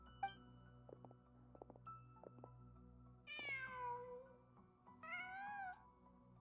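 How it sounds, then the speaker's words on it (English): A cat in Genshin Impact lets out two clear, fairly loud meows a second or so apart, following soft clicks and light game sounds over a low steady hum. "Just a cat."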